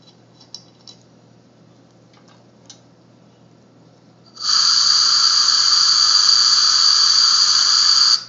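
A few faint clicks, then a small homemade silent air compressor built from a fridge compressor switches on and runs with a steady, high-pitched whine to the end.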